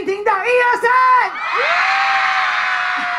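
Fans at a Taipei album signing concert erupt in a loud chant followed by sustained high-pitched screaming and cheering, close and continuous for the remaining seconds.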